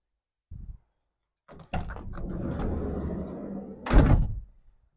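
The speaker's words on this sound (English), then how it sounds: "you want this door open and the side door open" A ProMaster 2500 van's side door is pulled open with a rumbling slide and ends in a solid thunk, close by, after a brief soft knock.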